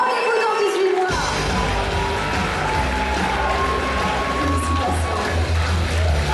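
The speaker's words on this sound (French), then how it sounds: "on peut les applaudir encore une fois très très très fort" An audience at the Shaker Challenge 2014 awards ceremony breaks into loud, sustained applause and cheering, with crowd noise and voices continuing throughout after a sudden start.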